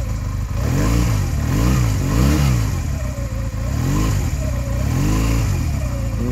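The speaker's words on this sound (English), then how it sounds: "Give it a couple of revs." A 2007 Honda Rebel 250 motorcycle engine idles close by and is blipped through several quick revs, each rising and falling in pitch, with a steady mechanical clatter underneath.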